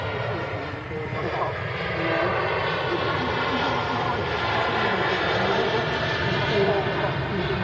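An Airbus A330 jet departs Manchester airport with a steady, broad engine roar under light wind, held at a moderate distance for several seconds.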